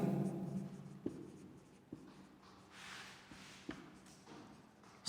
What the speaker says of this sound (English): just I am writing the question